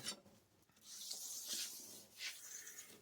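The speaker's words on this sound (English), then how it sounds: "I'm going to run over it once with Scotch-Brite." Abrasive Scotch-Brite pad scrubbing across a welded steel car body panel, giving soft hissing rubs in a few uneven strokes, close and fairly quiet with no talk.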